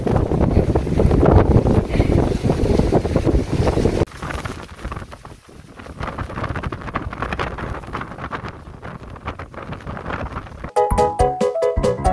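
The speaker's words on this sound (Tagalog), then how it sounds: "Grabe ang lakas ng hangin" Strong wind gusting across the Sanxiantai dragon bridge, a seaside arch footbridge in Taiwan, roaring loud and buffeting throughout, easing slightly midway before surging again.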